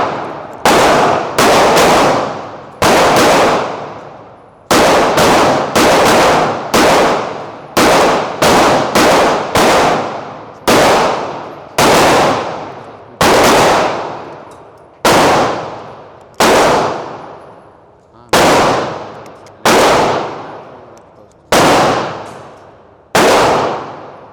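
Rapid bursts of close, loud pistol gunfire from an S&W M&P 2.0 Pro Series .40 S&W fitted with a Freedom Finger forced reset trigger, fired in quick strings of sharp shots separated by short pauses, with ringing echoes at a shooting center.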